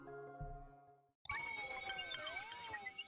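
A statue filled with bells is shaken in Hey! Pikmin, giving a bright, tinkling jingle with wavering tones that follows a short pause. A soft chime sounds beforehand.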